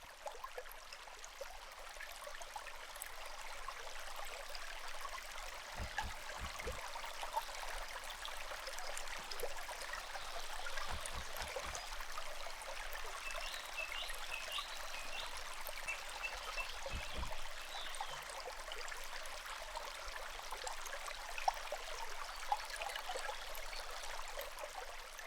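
A forest stream runs steadily throughout, a continuous broadband wash of flowing water with light trickling texture, heard alone at moderate distance with a few faint low thumps.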